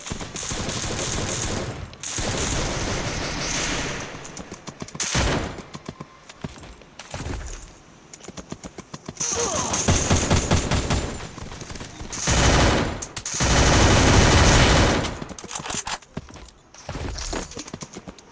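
Rapid bursts of gunfire in a video game with roughly 120 to 200 bullets of ammunition, coming as loud, dense volleys separated by brief lulls and mixed with footstep-like clatter, with no voices.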